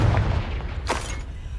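A Confringo spell explosion in Hogwarts Legacy lands as one muffled boom with a short burst, rising over a low rumbling background before fading.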